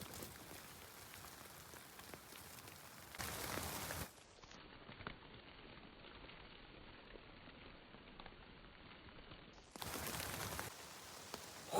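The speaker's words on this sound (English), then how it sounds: "Like, just like so much snow coming down all at once." Heavy snow pelts down outdoors like hail at a winter campsite in Killarney, a steady dense patter across the whole stretch, louder at the start and end with a muffled middle.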